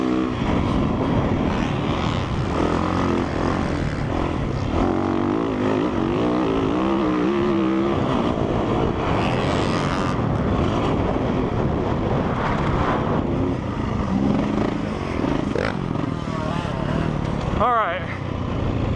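A 2017 Yamaha YZ450F dirt bike ridden hard, its engine roaring loud and steady throughout with shifting pitch and wind noise, a rider's voice breaking in now and then.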